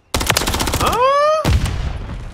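Rapid automatic gunfire in Modern Warfare III free-for-all multiplayer: a quick burst of close, punchy shots, then a brief rising electronic tone, and a few more shots at the end.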